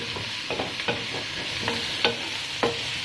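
Vegetables sear in a hot pan with a steady crackling sizzle, while a spoon stirs and scrapes them in irregular knocks and scuffs, close and clear with no talking.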